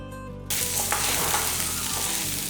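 Tamarind, shallots and chillies hit hot oil after a brief low hum, and a loud, close, crackling sizzle starts abruptly and carries on steadily with no talking.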